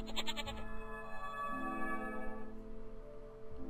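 A goat bleating in the video game Rusty Lake: Paradise, one drawn-out wavering cry laid over a steady, eerie synthesized game soundtrack.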